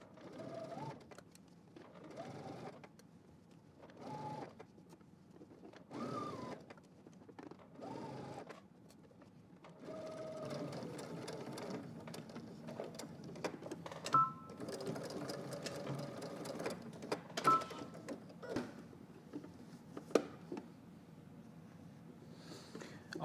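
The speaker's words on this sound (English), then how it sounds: "So let's head to the machine and let's stitch in the ditch." A sewing machine stitches in the ditch along a garment cuff, running in short repeated bursts with pauses at first, then in longer continuous whirring runs, close and moderately quiet.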